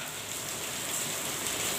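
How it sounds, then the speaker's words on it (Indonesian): Steady downpour of heavy rain makes a continuous close hiss of drops striking surfaces, even in level throughout with no talking. "jadi suaranya kecampur suara turunnya air hujan."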